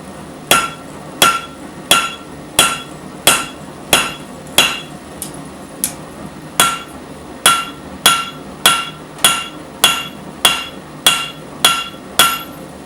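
Hammer striking a heated blade against the corners of an anvil during forging, about nineteen sharp ringing blows in an even steady rhythm, close and distinct, each with a short metallic decay, no talking.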